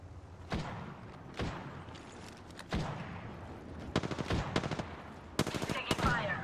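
Gunfire in the video game Apex Legends: spaced single heavy shots give way to rapid automatic bursts, sharp and punchy, with a final quick cluster of close rounds.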